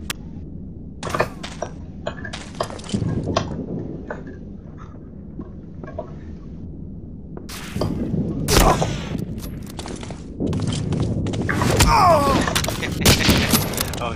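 Gunfire in Medal of Honor: Allied Assault Spearhead free-for-all multiplayer, scattered sharp shots and bursts, some close and loud, others sparse, with faint background talk and game noise between them.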